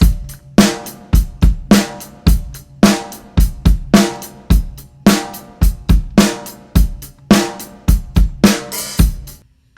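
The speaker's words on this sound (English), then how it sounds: "so that's the drum sound" A mixed drum kit for a rock song production, with compressed overheads and room sound: a steady groove of punchy kick and snare hits with ringing cymbal decay, loud and alone.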